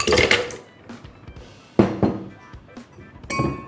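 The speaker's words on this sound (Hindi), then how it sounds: "ठंडा कर दिया जाए बर्फ," Ice cubes are dropped into a mango lassi made of yogurt and milk, giving several bright clinks and knocks against the vessel in separate bursts, close and fairly loud, with quiet gaps between.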